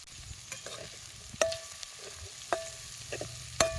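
Cumin seeds crackle in hot oil for a bean curry, a faint steady sizzle punctuated by a few sharp clicks and taps of a spoon against the pan, close by with no voices.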